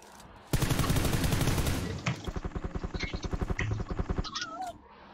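Gunfire from a UMP gun in PUBG Lite: a dense, loud automatic burst, then a rhythmic string of rapid single shots, close and with no talk over it.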